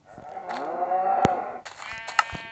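Cows mooing on a cattle farm in Minecraft PE 0.9.5, several drawn-out lowing calls overlapping at close range, with a brief sharp click midway, no talking.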